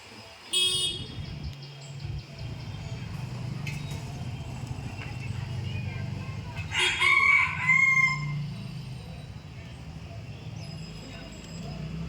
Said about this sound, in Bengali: ওদিকে আমার মোরগটা ডেকে উঠলো।